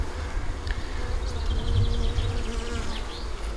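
Honey bees buzz steadily around an open nuc hive, a soft, continuous droning hum with individual bees passing close now and then.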